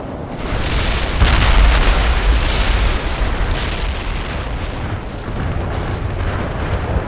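Heavy gunfire hits an armored transport in the World in Conflict video game. It is a dense, continuous roar of shots and booming impacts, loudest early on and rumbling steadily throughout, with no voices.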